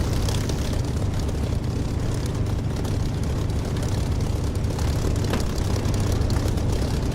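A Spitfire Mark 9 engine in the DCS flight simulator drones with a loud, steady, unbroken propeller roar, deep and close throughout.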